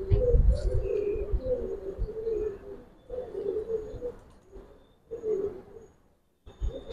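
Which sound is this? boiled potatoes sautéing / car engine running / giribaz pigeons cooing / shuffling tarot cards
giribaz pigeons cooing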